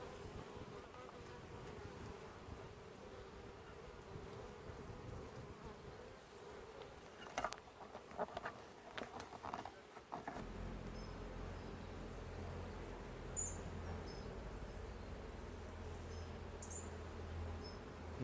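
Honeybees buzzing around hives being prepared for winter, a dense, steady drone close by with a few sharper knocks midway, the hum growing fuller toward the end.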